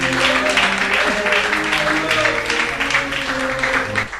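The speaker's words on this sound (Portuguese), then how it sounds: "Quem pode agora bater as palmas para Jesus?" A church congregation claps for Jesus, rhythmic applause mixed with voices and sustained tones that sound like singing or an organ, steady and fairly loud before tapering off at the end.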